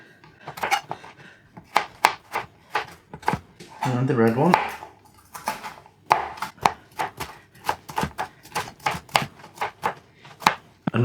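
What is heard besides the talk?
knife slicing bell peppers on board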